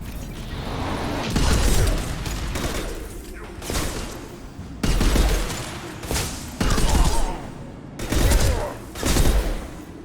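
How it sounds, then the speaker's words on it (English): Repeated heavy gunfire bursts and booming impacts from a high-impact shot in Mass Effect 2 on Insanity difficulty, loud and close, arriving in several separate volleys over a busy combat backdrop. "Firing a high-impact shot!"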